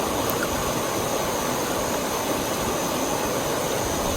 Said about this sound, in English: A river of hot water. And that's exactly what this is, but with a waterfall and a view.